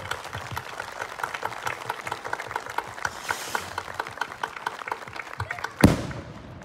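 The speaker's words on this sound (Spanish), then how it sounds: "Un aplauso, por favor." Congregation clapping at a night church mass during a Virgin of Guadalupe festival in Chavinda, Michoacán, steady scattered applause ending in a sudden loud bang.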